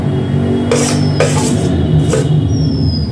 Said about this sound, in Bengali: সমানে নেড়ে যেতে হবে, যেহেতু এটা আমার স্টিলের কড়া